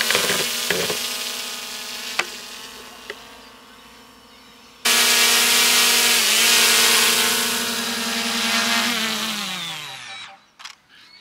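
A DJI Mini 3 Pro drone's propellers whine in a steady, close buzz that jumps louder midway, then spins down and cuts out as it lands, leaving a few faint clicks.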